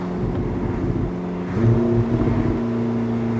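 A Porsche 918 Spyder hypercar's engine hums and whirs steadily, then shifts pitch with a louder surge partway through, carrying throaty burbles close up without any voices.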